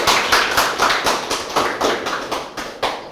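A small gathering at a ceramics exhibition opening gives brief applause: a few close, distinct claps in a loose rhythmic pattern for about three seconds.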